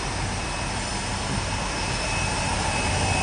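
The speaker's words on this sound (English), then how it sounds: "Here's the hot air blower." Hot air blower on a PL145 paper lid machine, a steady loud broadband roar with a faint high whine running unchanged throughout, no talking.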